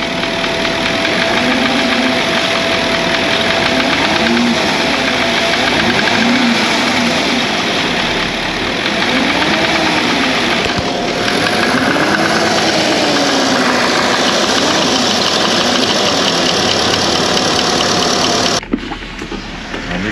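A car engine runs loudly close by, rising and falling as it revs repeatedly, with a persistent metallic piston knocking beneath the drone that follows the revs.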